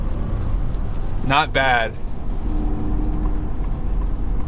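A 2026 Ford F-150 with the 402B package, 3.73 rear gearing and General Grabber tires roars steadily at wide open throttle, a constant loud engine drone inside the cab, with a brief spoken remark over it.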